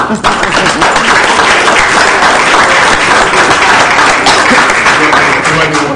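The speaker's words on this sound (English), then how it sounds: "I think that deserves a round of applause" Loud, sustained applause from a large crowd at a school district board meeting, dense clapping filling the whole stretch with a steady roar and no pauses.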